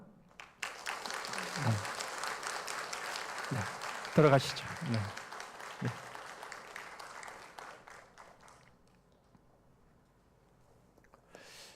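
Sunday worship congregation applauds in welcome, a wash of clapping that fades out gradually, with a voice speaking briefly over it.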